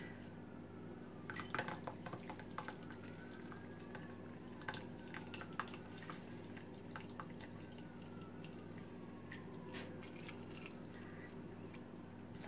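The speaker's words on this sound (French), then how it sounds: "Là, je vais passer à la passoire le mélange." Mint tea mixture strained through a sieve in a kitchen, a soft continuous trickle of liquid with faint drips and small clinks, quiet and close with no voices.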